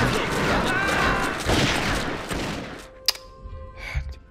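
Gunfire and battle noise in the Western video game Desperados 2, a dense roaring fusillade that thins out into scattered sharp shots and thuds.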